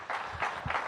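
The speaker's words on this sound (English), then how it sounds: "Give Tom a big round of applause." Audience applause for the moderator at a public safety summit hosted by a city mayor, a brief burst of steady clapping filling the room at moderate loudness.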